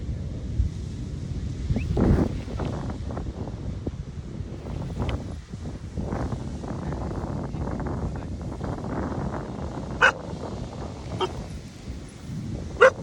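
A dog barks in several rough bursts outdoors, with gusty wind noise buffeting the microphone throughout.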